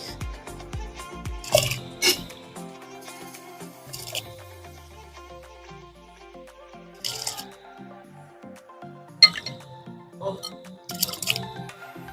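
Washed aromatic (atop) rice being poured into a pot of hot water for khichuri, with wet splashes, drips and squishy plops in a few bursts, close up and fairly clear, broken by quieter pauses.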